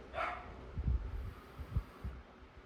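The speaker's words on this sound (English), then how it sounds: "You might hear some dogs barking today." Small dogs, chihuahuas and terriers, bark in the distance from next door, a faint high yelp followed by a few short, soft low thumps.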